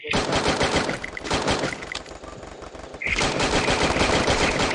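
Rapid automatic gunfire in the Garena Free Fire battle game, dense sustained bursts filling the whole stretch, loud and close with a brief dip before firing resumes.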